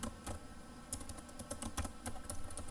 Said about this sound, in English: for that we need to type Java space file name